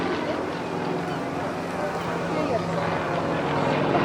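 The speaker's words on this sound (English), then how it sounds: "Coming back in now is the YAK-18" A Yak-18T, a late-1960s civilian four- or five-seat nose-wheel trainer, flies past at the Blackpool Airshow, its engine drone steady and broad over wind noise, with a commentator's voice running over it.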